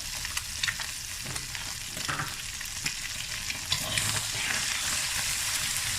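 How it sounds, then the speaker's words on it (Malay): Steady sizzling and crackling of red chili sambal paste frying in a hot pan, with occasional scrapes and clinks of stirring, close up. "Kita kacau macam ni."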